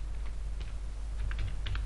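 Keystrokes on a computer keyboard as an email address and password are entered to log in on a Windows 8 PC, quick irregular clicks in short bursts over a low steady hum, no voices.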